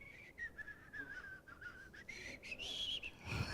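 A voice imitates a woman whistling through pain: a thin, wavering, whistle-like tone held steadily for a few seconds, faint and alone, bending upward near the end.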